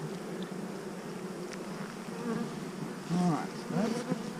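Honey bees buzz around an opened overwintered hive during an inspection, a constant soft drone with several individual bees flying close by near the end.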